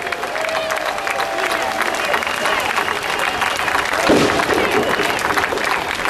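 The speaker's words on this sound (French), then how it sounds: "Merci, applaudissez-les très fort" A crowd at a farmers' union gathering applauds its regional leaders, a dense, steady roar of clapping with some cheering that swells slightly near the end.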